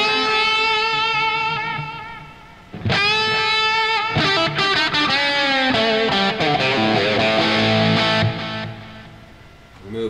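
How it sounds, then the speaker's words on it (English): Electric guitar through a Suhr Badger 35 MKII amp head with delay, sustained notes and chords with echoing repeats trailing each phrase, fairly loud and slightly overdriven. "Let's add a bit of delay."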